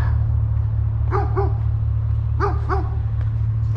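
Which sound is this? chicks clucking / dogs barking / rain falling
dogs barking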